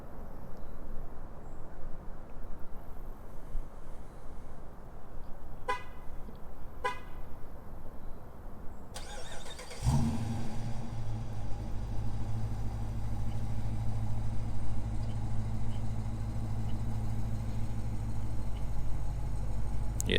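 A Chrysler 300 started remotely from a phone app gives a short horn toot, then the engine catches with a loud low rumble that settles into a steady, close idle.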